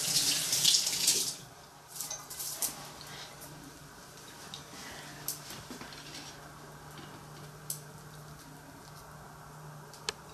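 A kitchen water tap runs briefly while a cook rinses something during preparation of a Black Forest yule log. A strong gush in the first second gives way to a quieter, steady trickle with a few faint clinks.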